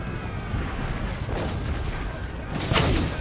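Artillery fires in Empire Total War, heavy booming cannon reports over continuous battlefield rumble, with a sharp louder blast near the end.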